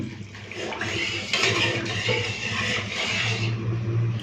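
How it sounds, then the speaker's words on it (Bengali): Water pours continuously into a pot of washed mung dal set up for boiling, a close, rushing splash that swells and eases over a few seconds. "এরপরে জল দিয়ে দিচ্ছি সেদ্ধ করার জন্য"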